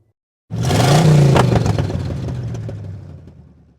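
A 2025 Subaru Forester engine pulls up from rest while driving, a loud rising drone that swells quickly then eases into a steady, slightly fading cruise hum, with no voices.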